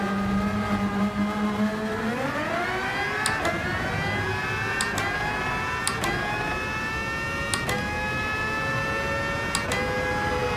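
A race car's engine climbs through the gears and settles into a steady high drone as it works through a chicane, with sharp clicks of gear shifts at intervals, loud and close, with no talking.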